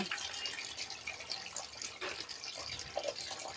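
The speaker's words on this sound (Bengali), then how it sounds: "আবার কাটার পরেও ভালো করে আমি ধুয়ে নিচ্ছি" Cut potatoes being washed under running tap water, a faint, steady splashing hiss with small spatters throughout and no voices.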